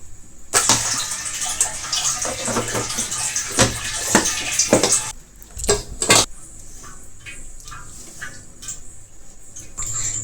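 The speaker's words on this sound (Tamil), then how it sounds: "தண்ணி சவுண்டு சொட்ட சவுண்டு கேட்குது நினைக்கிறேன்" Water splashes and runs steadily, then falls into a few separate drips and small plinks, fairly close in a quiet room.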